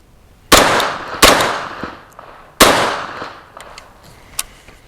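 Three sharp, loud gunshots from a Grand Power Stribog SP45A3 chambered in .45 ACP crack close by, irregularly spaced with ringing decay and a fainter metallic clink after.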